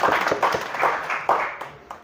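An audience at a Hindi political speech claps in a brisk, uneven burst, individual hand claps audible as sharp repeated hits for about two seconds, with no talk over them.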